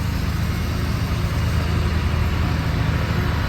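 A loaded semi truck's diesel engine idles steadily and loudly close by, a continuous low rumble with no talk.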